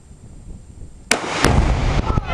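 Two sharp, loud gunshots from an AR-15 rifle fired at a weedeater outdoors, the first at about the one-second mark and the second a moment later, each ringing out into a lingering, noisy rumble.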